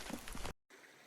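A creek in the Quinault forest runs with a steady broadband hiss of water. The flow cuts out abruptly for a moment, then resumes more quietly.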